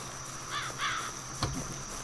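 Crow or raven in the video game The Count Lucanor, two quick harsh caws close together followed by a short thud, over a faint steady background hum.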